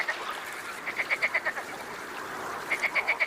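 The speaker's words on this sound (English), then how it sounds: "Courting marsh frogs are the first to move on to the floodlands." Repeated short croaking calls of courting marsh frogs in rhythmic bursts, a few pulses then a pause, over a steady background chorus of distant frogs on the Volga Delta floodlands, Russia.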